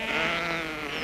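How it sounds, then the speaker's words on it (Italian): Sheep bleat in a 1952 film scene: one sustained, wavering bleat, close and loud, alone without talk. "No, sono pecore, non lo vedi?"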